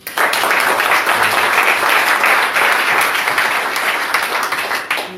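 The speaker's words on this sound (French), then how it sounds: "Applaudissons d'abord pour le Seigneur" A large church congregation applauds loudly and steadily, dense clapping sustained throughout with some voices mixed in.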